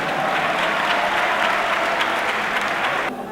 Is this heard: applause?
yes